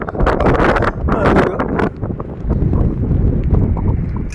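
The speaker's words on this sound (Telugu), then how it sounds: "మొత్తం ఇదేనండి గాలి" Strong wind gusting along a dusty roadside, buffeting the microphone with a loud, continuous roar, while someone talks over it.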